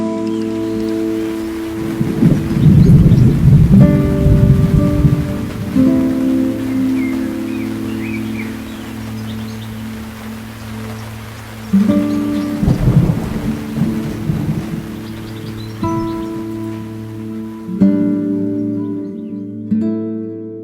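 A loud, close thunderstorm with heavy rain falling steadily throughout while deep thunder rumbles roll and crash repeatedly, swelling and fading in long waves without any speech.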